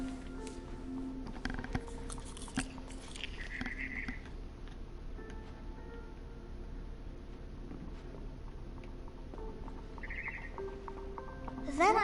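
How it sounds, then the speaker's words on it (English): A barn swallow chirps in the video game What Remains of Edith Finch, with a few short, fairly faint tweets rising over a steady low ambient hum, including a brief cluster near the end. "Then I heard chirping outside my window. It was a barn swallow going back to her nest."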